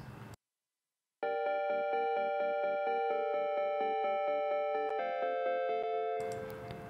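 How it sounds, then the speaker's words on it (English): A synthesizer plays a rapid, evenly ticking arpeggio of bright repeated notes, shifting pitch partway through after a brief silence. "we're also going to mix in this other ARP sound, which sounds a little bit like this"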